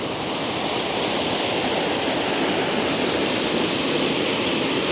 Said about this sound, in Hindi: और ये इतना खूबसूरत सा वाटरफॉल है